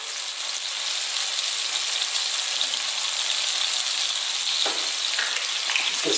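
Halved garlic cloves hit hot oil in a pan with salt, giving a steady, bright sizzle and crackle that continues evenly without talk.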